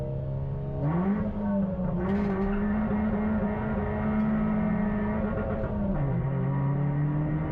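A BMW race car launches from the start of a Cadwell Park trackday, its engine note rising hard as it pulls away, dipping at a gear change, then climbing again, loud and close throughout.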